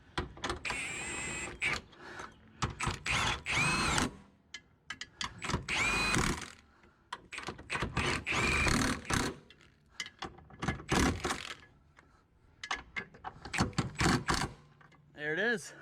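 A power tool whirs in repeated short bursts while bolts are tightened on the rear of a 1998–2008 Subaru Forester during a 2-inch lift install, with a person talking between the bursts.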